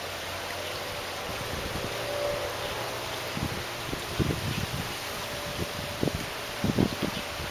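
Wind blowing outdoors on an open day, a steady broad rush with gusty rumbles buffeting the microphone, occasional low thumps and rustles, no voices.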